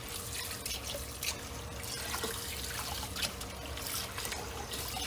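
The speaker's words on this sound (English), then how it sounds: "So wash them with cold water." Cold tap water runs over scallops being rinsed in a sink, a steady close trickling stream with scattered drips and splashes throughout.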